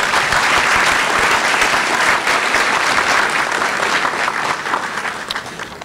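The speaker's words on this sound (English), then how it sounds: "I think you owe a round of applause to your faculty that helped you get where you are here today" Loud, sustained applause from a large audience at a university commencement ceremony in Grenada, a thick continuous clatter of clapping that stays strong before easing slightly at the close.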